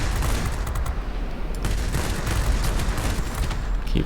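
Rapid machine gun fire from a MiG-9 jet fighter in the World of Warplanes combat flight game, a dense, continuous loud rattle mixed with low engine rumble, steady throughout with no talking.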